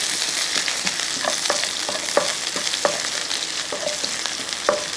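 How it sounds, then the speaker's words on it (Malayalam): Shallots, dried red chilies and curry leaves sizzle loudly in oil for a fish curry while a spoon stirs them, sharp scraping clicks over a dense, continuous fry with no talking. "ഒരു അഞ്ചാറ് ചെറിയ ഉള്ളി അരിഞ്ഞു വെച്ചിരിക്കുന്നത് ആ ഉള്ളി രണ്ട് വാറ്റൽമുളക് ഇത്തിരി കരിയാപ്പിള ഇതെല്ലാം കൂടെ അങ്ങോട്ട് ഇട്ടു ഇതൊന്ന് ഇളക്കി"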